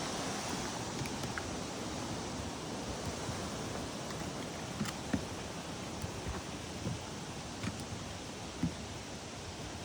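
Waterfall at Mount Rainier National Park, beside the Wonderland Trail near Carter and Madcap Falls: a steady, broad rush of falling water filling the whole clip with constant hiss and a few faint knocks on top.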